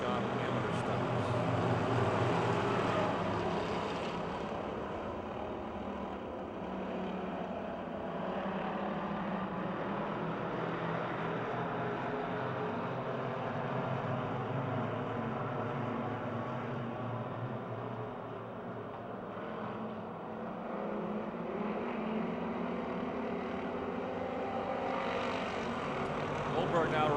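Amateur race cars at Pennsylvania Motor Speedway in Pittsburgh roar steadily through a green-flag restart, a dense continuous engine drone filling the whole stretch with slight swells as the pack passes.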